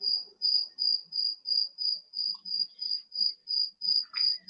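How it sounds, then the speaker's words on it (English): A loud cricket chirps alone in a steady, even rhythm, about three chirps per second throughout, with faint background noise beneath. "You sound like you down south, that old loud cricket."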